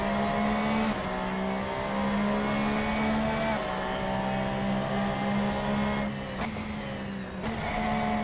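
A Porsche GT3 race car in the Assetto Corsa racing game, its engine holding a steady, buzzing high drone with brief dips and rises as gears shift, loud and continuous throughout.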